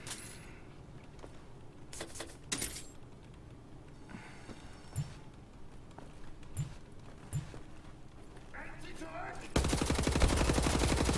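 Laser pistol in the shooter game Wolfenstein: The New Order fires several short bursts amid game ambience, followed near the end by a loud, sustained electric crackle.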